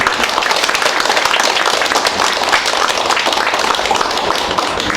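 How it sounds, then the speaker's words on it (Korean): Dense crowd applause for Lee Yong-gi, People Power Party pre-candidate for Gwangjin-gu mayor, at his campaign office opening on the fourth floor of the Duseong Building. Steady close clapping fills the room without a break. "우리 이용기 후보님에서 박수 한 번만."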